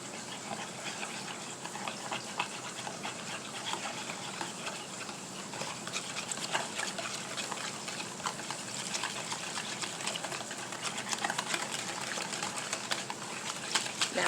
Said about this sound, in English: Takes a half a cup of milk, which I have right here. We're going to pour that in. We're going to stir this up.